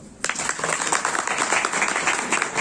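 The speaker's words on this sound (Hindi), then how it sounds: "तालियां बजा दें।" A burst of audience applause starts abruptly and continues as dense, steady clapping from many people in a hall.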